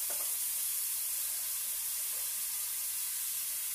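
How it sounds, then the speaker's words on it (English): Onions sizzle in a very hot pan, a steady, even hiss of frying that runs the whole time with no talking. "you just want to sweat your onions or cook your onions down until they become translucent"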